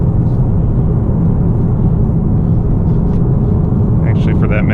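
A 2018 Honda Accord Sport 2.0T with a six-speed manual cruises down a back road, its engine and road noise a loud, constant low rumble filling the cabin, with a voice speaking briefly near the end.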